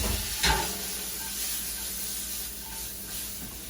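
Onions and fiddleheads sizzle steadily in a hot pan, a continuous close hiss with a brief louder burst near the start, no voices.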